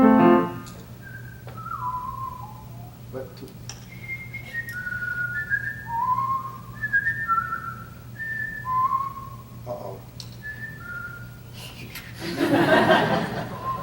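A man whistles an elaborate folk tune, a series of short wavering melodic phrases over a low steady hum, followed by a burst of laughter at the end.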